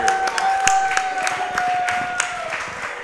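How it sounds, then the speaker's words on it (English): A crowd applauding a coach at a local coaches show, several seconds of steady clapping with a faint tone running beneath it. "Can we get a bigger round of applause for Coach Pleasant?"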